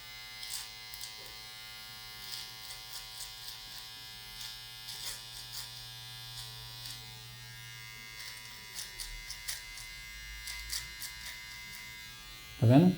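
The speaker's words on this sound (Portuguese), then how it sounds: "agora a gente vai usar a máquina de acabamento aqui" A hair trimmer used for finishing touches buzzes steadily and fairly quietly while trimming hair, with light scraping clicks as it passes over the hair.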